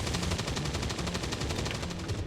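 Rapid automatic gunfire in XCOM: War of the Chosen, a fast, even burst of sharp shots rattling without pause and fairly close, with no talking.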